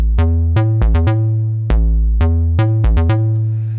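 Juno-style synth chords played dry without chorus, loud and up close, a short rhythmic pattern of staccato stabs and a few longer held chords, nothing else heard.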